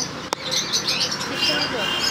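Small caged birds chirping, a dense flurry of high, quick tweets running steadily throughout, with a sharp click near the start and faint voices in the background.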